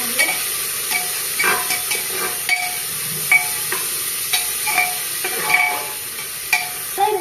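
Biryani masala sizzles and fries in a pan while a spoon stirs it, close and steady, with repeated scraping and clinking strokes over a continuous hiss.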